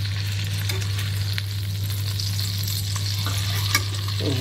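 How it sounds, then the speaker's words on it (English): Woodcock frying in a pan, a steady dense sizzle with a low constant hum beneath and a few faint clicks, close and continuous with no talking. "Woodcock in the pan, oven on ready."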